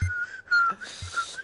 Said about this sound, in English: He's trying so hard to whistle.